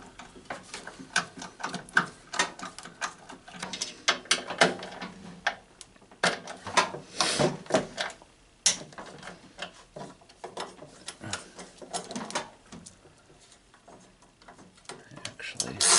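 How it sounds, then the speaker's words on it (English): A ratcheting screwdriver clicks in quick bursts while backing screws out of an Emerson microwave, the close mechanical ratcheting uneven and broken by pauses, with someone speaking at times. "I forgot it was a ratcheting screwdriver."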